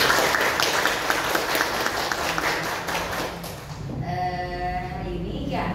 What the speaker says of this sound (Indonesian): Tepuk tangan dulu buat semuanya.